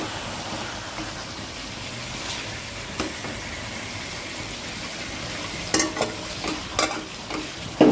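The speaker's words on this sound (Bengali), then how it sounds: "এখানে আমার চিকেনটা কষছে" Chicken and potatoes sautéing in a pan with hot oil, a continuous sizzle with stirring scrapes and a few sharper clanks of the utensil near the end.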